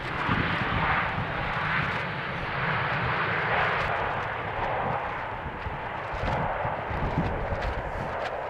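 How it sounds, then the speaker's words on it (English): A 15-year-old Vueling Airbus A320, inbound from Barcelona, arrives at Amsterdam airport on a windy day; a steady, loud broadband jet roar fills the whole stretch, rising and falling slightly with gusts and no talk. "are seeing another Vueling A320 come in, inbound from Barcelona"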